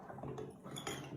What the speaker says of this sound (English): And we just stir this to incorporate the icing sugar.